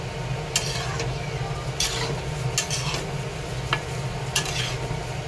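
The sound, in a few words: stirring khatta meetha pickle in a pan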